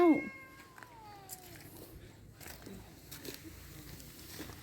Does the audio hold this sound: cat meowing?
yes